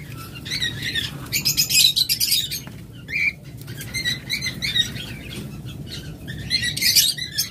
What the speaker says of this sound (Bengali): তারপর এটা হলো গ্রিন চিক কোনুর, এগুলো ডাবল রেড ফ্যাক্টর